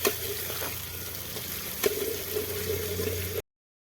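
Ingredients sizzle steadily in hot oil while fresh beans with rajma are being prepared, a continuous close frying hiss with a low hum beneath and a single clack partway through, then abrupt silence.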